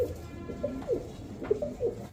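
Pigeons in a sale loft, including a Lahori pair, giving a series of distinct throaty coos, about half a dozen short rolling calls spaced irregularly, close and clear over quiet background.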